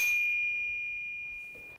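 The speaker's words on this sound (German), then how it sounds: "Und aktivier die Glocke." A single bright notification bell ding rings out cleanly and alone, then its tone slowly fades over almost two seconds before cutting off.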